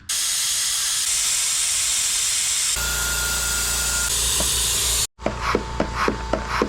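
An air-powered oil extractor, leaking air during maintenance on a 2022 GLI, gives off a loud continuous hiss, which changes tone partway through, then drops out and returns with rhythmic pulsing clicks.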